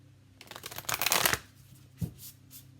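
A deck of tarot cards is shuffled up close, with a quick riffling flurry that builds to a dense burst, then a couple of softer taps and flicks as the cards settle.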